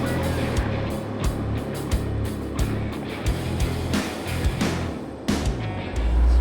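A rare Oldsmobile Indy pace car engine runs steadily close by with a deep, rumbling idle, rising in a few brief revs and swelling louder at the end, set against open countryside.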